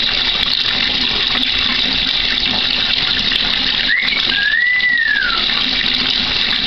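A household tap running steadily during a pet's bath gives a continuous, close hiss of flowing water, with a brief squeaky whistle partway through.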